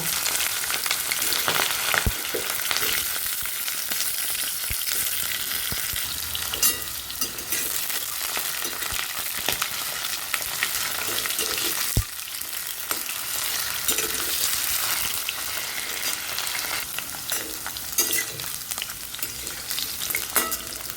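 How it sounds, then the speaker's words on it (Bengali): Singapuri banana pieces fry in oil, a continuous close crackling sizzle that runs unbroken for about twenty seconds, with occasional stirring knocks and no voices. "এবার এক একে কলাগুলোকেও ভেজে তুলে নেব।"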